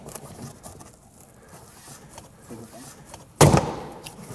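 The A-pillar trim panel on a Citroën C4 comes free with a sudden sharp plastic clip snap near the end, after quiet faint handling and rustling.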